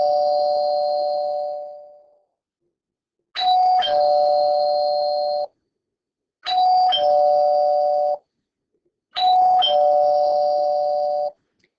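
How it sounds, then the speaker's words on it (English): An electronic ding-dong doorbell rings four separate times, each chime clear and close with a short silent gap before the next. "The sound of the doorbell tell us that there is someone at the door"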